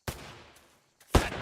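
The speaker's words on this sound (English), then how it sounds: "Normally you don't walk towards gunshots." Gunfire in the video game Martha is Dead, with two sharp distant shots about a second apart and no voices.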